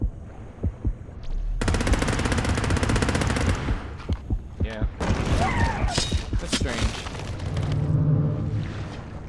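Rapid bursts of automatic gunfire in the underwater shark game Depth, loud and dense for several seconds, then scattered shots, with a player talking over parts of it.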